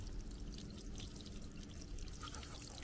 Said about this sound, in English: Time to add water a little bit.